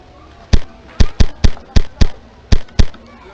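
A fire mote shooting in the game Geneforge, heard as eight sharp, loud bursts in an uneven rhythm, each a crackling pop with a short decaying tail, with no talk over them.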